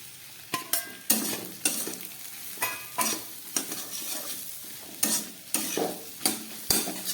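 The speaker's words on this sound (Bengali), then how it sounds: "এবার দিয়ে দিচ্ছি ভেজে রাখা আলুটা" Pre-fried potatoes and cumin sizzle in a pan, stirred with repeated scraping strokes at an irregular rhythm over a constant fry, close and without talk.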